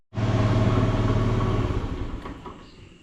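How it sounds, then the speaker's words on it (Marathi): A car engine idles steadily in a Konkan village setting, a continuous close low rumble that holds level before easing slightly toward the end, with no talk over it. "गाडीचा आवाज येतो ना गाडी चालू ठेवली आहे ना"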